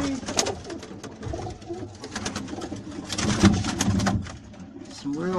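Roller pigeons cooing in a backyard loft, soft repeated low coos at close range, with someone talking over them and a few clatters in the background.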